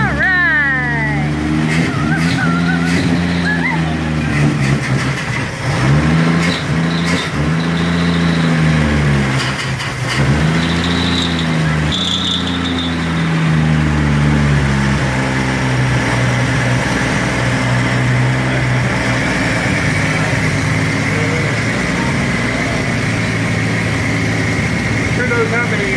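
A 1966 Ford Bronco engine cranks and catches, then settles into a steady, rough idle with wavering revs, loud and close, with people talking over it.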